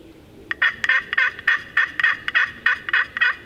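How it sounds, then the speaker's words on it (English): A wild turkey hen calls during turkey season with a close, rhythmic run of about a dozen raspy yelps in quick succession, loud against a quiet outdoor background. "When the hen's calling, the gobbler, that's what a hen sounds like."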